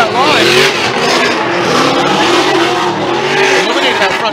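Formula Drift cars drift around the Palm Beach course, engines revving hard with wavering pitch and tire squeal, loud and close, while a commentator talks over the action.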